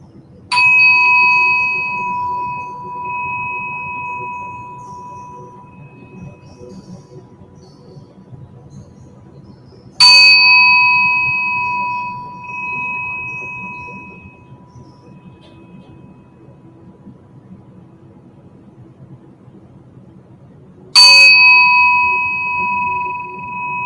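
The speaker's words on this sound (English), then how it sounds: "And let the ears follow the tones of the bell." A meditation bell struck three times at roughly ten-second intervals, each clear, resonant tone ringing out and slowly decaying into a quiet room with faint background hum.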